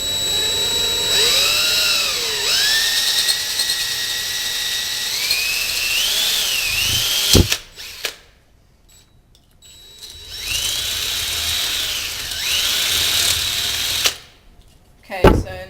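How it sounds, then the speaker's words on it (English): A power drill whines at a steady pitch in two bursts while drilling a hole in a plastic lid, rising and falling as it bites, with short quiet gaps between. "you just want to drill a hole in the back of the lid"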